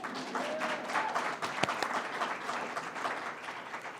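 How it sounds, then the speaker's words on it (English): An audience at a government literacy grant announcement claps steadily for several seconds, a dense, even wash of applause with a few sharper hand claps standing out. "go ahead and clap"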